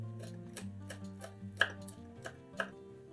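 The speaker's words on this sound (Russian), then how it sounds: "Петрушку измельчаем ножом." A knife chops parsley on a board in a steady run of light, crisp taps, close by and unaccompanied, with a couple of slightly sharper knocks.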